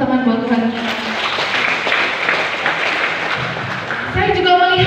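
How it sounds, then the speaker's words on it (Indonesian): Church seminar audience applauding together, a broad, steady wash of clapping lasting several seconds, with a voice speaking over the start and again near the end. "Boleh tepuk tangan buat Tuhan."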